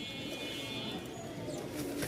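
Pigeons coo softly among a small group of fancy breeding birds kept for sale, low rolling calls over a gentle background hum.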